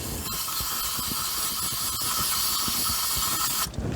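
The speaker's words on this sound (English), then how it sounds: "All you need to do is spray some cleaner inside there." Steady broadband hiss of an aerosol cleaner spray held close, sprayed into a Subaru Forester's sensor area, continuous for several seconds before cutting off abruptly near the end.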